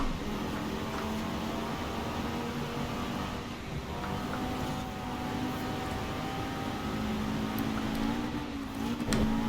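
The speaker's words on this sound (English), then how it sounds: "This car is fairly quiet in my headphones and kind of hard to tell when I need to shift" A car engine in the racing video game Forza Horizon 4, heard through headphones, drones at a fairly quiet, steady pitch, rising slightly in spots, with no talking over it.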